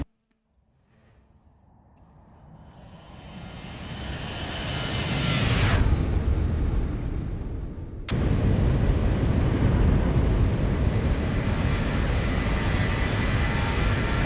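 A Zibo Boeing 737 in a flight simulator, in Southwest Airlines Winter Edition livery, approaches with a swelling jet roar that peaks as it passes, then cuts abruptly into a steady, loud engine rush.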